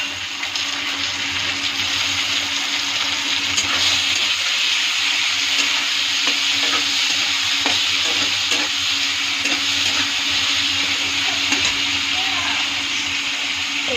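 Tomatoes sizzle and crackle in a hot pan as they are stirred, a dense, steady frying hiss held close and constant throughout with light clinks from the stirring.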